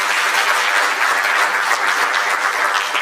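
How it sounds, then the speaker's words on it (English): Steady applause from a conference audience at a mental wellness and counselling event, dense continuous clapping that holds at an even, fairly loud level throughout with no voices over it. "Let's clap for ourselves."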